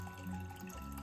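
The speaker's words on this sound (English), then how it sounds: "And then we fill it with water." Water pours into a jar of chicken feed set up for fermenting, a brief steady trickle heard close and soft, with no voices.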